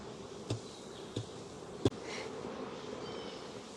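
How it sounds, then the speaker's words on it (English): Honeybees from a nuc box being dropped into an old hive buzz in a steady swarm, broken by three sharp knocks as the bees are shaken down out of the box. "There we go, knocking the bees down out of the box there."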